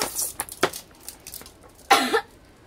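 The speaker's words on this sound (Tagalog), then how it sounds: "sorry po ha kung inuubo ako" A short cough from someone not yet recovered from illness sounds near the end, preceded by some soft rustling and breathy noises up close.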